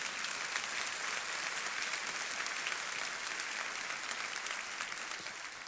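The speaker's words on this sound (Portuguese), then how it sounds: "Pode aplaudir a Jesus." Church congregation applauding during a sermon, a loud, dense and continuous wash of many hands clapping at once, holding steady throughout with no voices above it.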